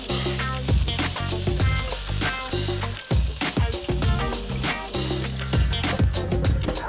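Burger patties sizzle on a grill, a steady bright crackle and hiss with occasional louder pops, close and continuous with no talking over it.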